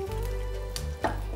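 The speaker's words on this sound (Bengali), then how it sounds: "একটু লাল করে ভেজে নিতে হবে জিনিসটা।" Food fries in a pan with a steady, close sizzle and a brief stir or clink partway through, with no talking over it.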